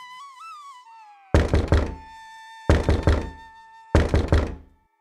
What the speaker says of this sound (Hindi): अचानक दरवाजा खटखटाने की आवाज आती है